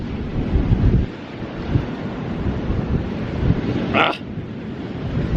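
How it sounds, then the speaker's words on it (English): Gusty wind on Martha's Vineyard buffets the microphone with loud, continuous rumbling roar, swelling in strong gusts near the start and again around the middle, with a brief sharp hiss burst late on; no one speaks. "The wind really picked up."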